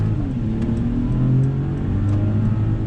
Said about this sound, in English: Let me go ahead and get on throttle.